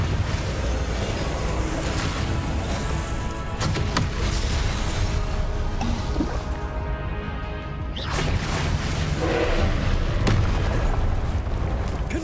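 Repeated Confringo explosive spell blasts from Hogwarts Legacy, a series of loud booming bursts and crashes scattered across several seconds over a dense, noisy combat background.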